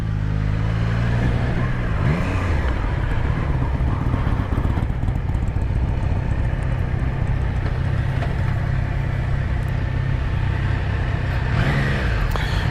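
A Triumph Trident 660 motorcycle engine drones loud and close while riding, with the pitch rising and dropping across smooth gear shifts over a steady rumble.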